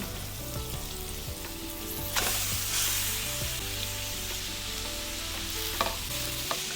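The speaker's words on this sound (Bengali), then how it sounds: "ভালো করে কষিয়ে নিতে হবে মশলার সাথে" Boiled watermelon rind frying in a pan with spices and green chillies, a continuous close sizzle with repeated stirring scrapes and knocks, no voices.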